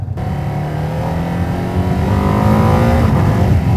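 A Ducati Panigale V2S motorcycle accelerates hard with a quickshifter, its engine note rising loud and close through the gears, with a brief break in pitch near the end.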